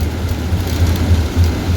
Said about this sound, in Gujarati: ફૂલ વરસાદ આવે છે. વરસાદ ચાલુ થઈ ગયો હવે.